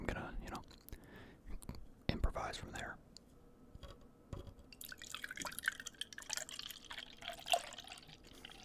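Milk poured into a plastic cup during a close-miked cookies-and-milk eating session: trickling, dripping liquid after several seconds of soft whispering and mouth sounds, intimate and quiet.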